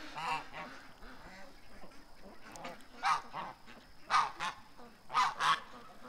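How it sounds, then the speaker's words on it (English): Ducks being fed on a property quack and honk in a string of sharp, uneven bursts, several calls overlapping at moderate distance against a quiet background. "Ducks are getting worked up, eh?"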